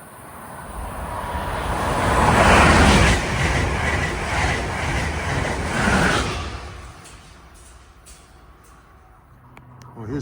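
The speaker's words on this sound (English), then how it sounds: "And approaching is 2163 from Boston to Washington." Passenger train 2163 from Boston to Washington approaches, a broad rumbling roar that swells to a loud peak at mid-clip and then fades to quieter background noise.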